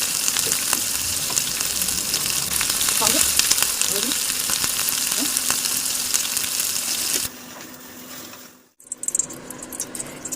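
Cauliflower florets fry in a wok of white oil with a spoonful of ghee, giving a steady bright sizzle with occasional stirring scrapes, which cuts off sharply partway through and leaves quieter residual sounds.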